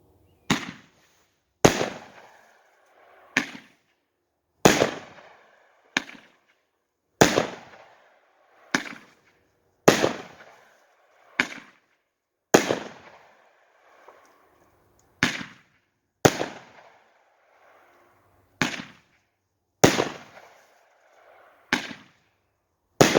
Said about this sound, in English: Got the Royal Falcon 10-shot by SKYSONG.